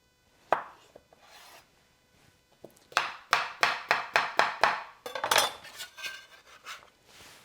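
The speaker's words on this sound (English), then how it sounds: "just gonna kind of rough chop it here" Knife rough-chopping papaya on a cutting board, a few scattered taps and then a quick run of sharp, evenly spaced chops, close and crisp with no voices.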